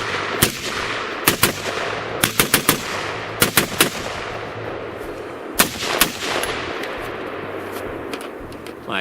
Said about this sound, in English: today, we're gonna put a few more rounds through it, give you some notes while I'm shooting